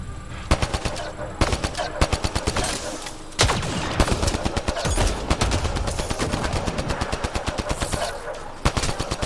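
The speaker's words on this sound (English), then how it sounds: "Who's shooting me?" Rapid machine-gun fire and repeated gunshots in the video game Mass Effect: Andromeda, loud and continuous in dense bursts across the whole stretch, with a voice faintly under the shooting.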